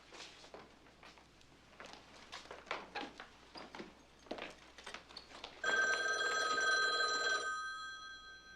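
Telephone ringing in the film Klute: a loud bell-like electronic ring begins partway through and holds steady for about two seconds, following quiet indoor rustling and footsteps.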